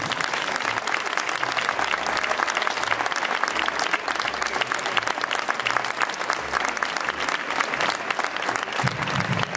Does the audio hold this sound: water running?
no